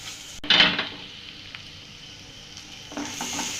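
Carrots and tomato sauce stirred in a frying pan for egg pasta, with a short scraping burst near the start and another toward the end over a soft, steady sizzle.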